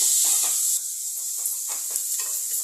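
Onions sauté in a pan for a vegetable kurma, giving a soft, steady sizzling hiss with faint intermittent stirring scrapes, close and continuous, with no talking.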